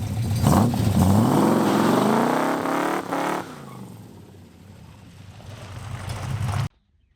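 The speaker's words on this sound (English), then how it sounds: "I guess spinning tires probably wasn't the best thing to do" A 1968 Dodge Coronet's V8 roars as it revs hard and spins its tires, the pitch climbing through the first few seconds, then easing into a lower rumble before cutting off abruptly.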